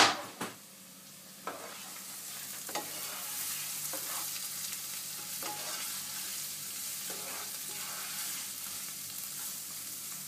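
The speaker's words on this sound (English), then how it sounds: "Now we're going to add the carrot and the garlic. That's going to soften for a couple of minutes." Carrot and garlic sizzle in a hot pan on a home stove for chili con carne, frying steadily at a moderate level with occasional stirring scrapes and clicks.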